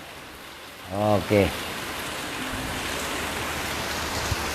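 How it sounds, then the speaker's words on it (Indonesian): Steady rain falls during an Islamic study gathering, a continuous broadband hiss that holds at even level throughout, with a brief spoken word near the start. "Ini hujan ya."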